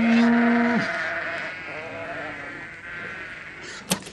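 Real farmyard sheep bleating, one long loud bleat up close at the start, followed by fainter overlapping bleats and general farmyard ambience, with a brief sharp sound near the end.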